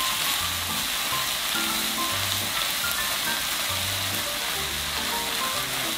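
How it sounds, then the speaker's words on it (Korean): Bean sprouts and carrot stir-fry in a pan, a steady crackling sizzle close by, even and continuous with no voices. "1분 정도 볶았어요"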